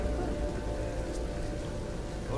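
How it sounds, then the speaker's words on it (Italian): Heavy rain falling steadily in the game Beyond: Two Souls, a dense, even wash of drops close by, with no voices over it. "Questa maledetta pioggia sembra proprio aver voglia di pioggia."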